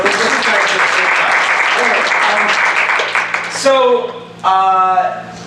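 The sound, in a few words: audience applause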